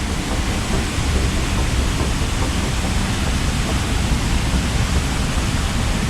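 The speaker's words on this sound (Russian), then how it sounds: "А вот отсюда видно, как падает вода." Water of the Düden waterfall near Antalya, Turkey, pours down beside a cave, making a dense, unbroken roar that stays constant throughout.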